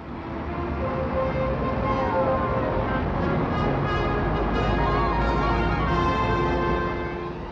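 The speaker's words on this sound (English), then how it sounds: "It's jammed today and even more jammed tomorrow as the traffic builds up." Dense 1964 street traffic on Oxford Street, London, a continuous loud wash of engines and road noise with faint siren-like tones rising over it, steady throughout with no talk.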